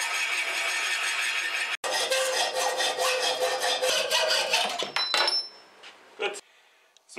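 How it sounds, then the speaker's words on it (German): A metal saw blade on a milling machine cuts wooden strips at a mitre, giving a loud rasping whine in two long passes, then fading into lighter scrapes and knocks. "Wir benutzen so ein Metallsägeblatt und jetzt hauen wir die auf der richtigen Gärung durch."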